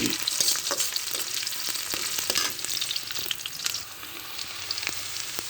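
Chopped onions fry in a pan with a loud, dense, continuous sizzle close up, broken by occasional sharper crackles and stirring scrapes, with nobody speaking.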